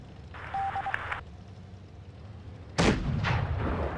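A heavy tank cannon fires in a tank battle video game, a loud sharp blast followed by a rumbling echo and a second shot trailing off, preceded by a faint electronic beep sequence.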